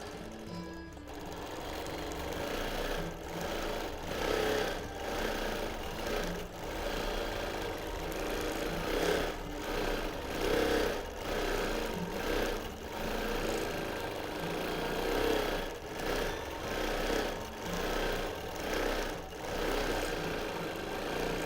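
Sewing machine running steadily during free-motion, edge-to-edge quilting across a quilt, a close mechanical whir that pulses in uneven bursts as the stitching speeds up and slows, with no voices.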